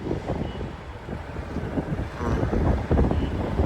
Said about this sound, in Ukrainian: Вітерець сильно піднімається